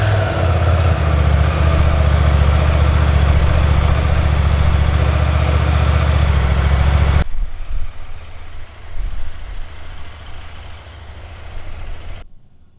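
KTM 890 Duke R motorcycle with its stock slip-on exhaust, a close, steady low idle with a raspy mechanical edge, then quieter uneven engine rumble after a sharp drop in level.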